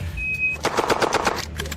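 A competition shooter fires a rapid, loud burst of gunfire, with a dense string of sharp shots in quick succession close to the microphone.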